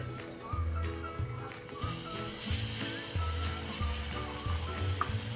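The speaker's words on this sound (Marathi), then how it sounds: "आणि आता हे दूध आटेपर्यंत आपण एकसारखं भाजून घ्यायचं आहे" Besan flour roasting in ghee in a pan after a splash of milk is added, giving a steady soft sizzle with repeated scraping strokes close by.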